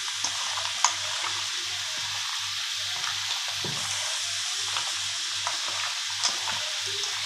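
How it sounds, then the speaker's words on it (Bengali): Duck meat is worked by hand with spice paste and oil, giving a close, wet, squelching mix with small scattered clicks and a steady low background hum; no one speaks. "এইভাবে সুন্দর করে হাত দিয়ে মেখে নিতে হবে এইভাবে।"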